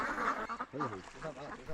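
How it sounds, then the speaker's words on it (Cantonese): A flock of 120-day-old ducks at a duck farm quack in quick, overlapping bursts, fairly close but soft in level, with people talking over them. "呢啲鴨夠啦，夠120日噶啦，可以開工劏鴨啦。"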